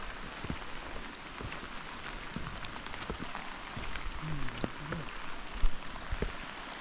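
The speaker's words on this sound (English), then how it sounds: "it started raining even worse" Heavy rain patters densely on a steep, rocky mountain trail on Mount Rysy, a constant wash of drops with a few louder splashes and faint low rumbling underneath.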